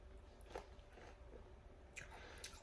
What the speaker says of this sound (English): They're like hard. They're crunching. These are the crunchiest grapes I've ever had.